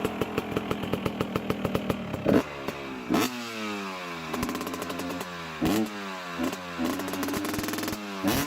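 A two-stroke motorcycle engine runs with a rapid, buzzy, rattling note, blipped and revved in repeated bursts that rise and fall in pitch, loud and close with no talking.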